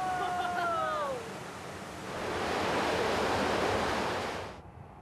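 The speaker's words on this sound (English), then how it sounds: "That's our finished water flowing into the clear well tank." Finished drinking water at a water treatment plant pouring into a clear well tank holding over a million litres, a broad steady rushing wash like surf that swells and then cuts off, with a brief whistling tone at the start.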